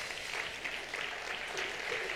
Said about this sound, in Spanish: vamos a darle un aplauso a Terry